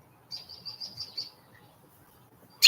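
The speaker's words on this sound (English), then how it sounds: "Got these fucking birds chirping." Birds chirp outdoors in a quick run of five or six bright tweets, followed after a pause by one sharp louder call, with quiet background between.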